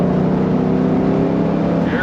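A 2021-22 Mustang GT convertible engine idling with exhaust in quiet mode, a low, steady exhaust hum, subdued and even throughout, with a voice faintly underneath.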